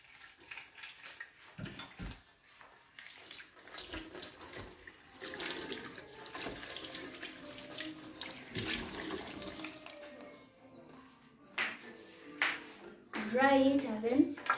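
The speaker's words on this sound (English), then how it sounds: "Now you wash your spoon." A spoon being washed under a running kitchen tap while making beetroot juice, with steady splashing water and clinks throughout, louder toward the end, and a voice talking over it.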